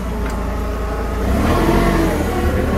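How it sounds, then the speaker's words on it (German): A forklift's engine drones steadily as it drives into a workshop hall, a close mid-pitched motor hum that swells slightly louder in the second half. "Jetzt unseren Sportstapler mal in die Halle fahren."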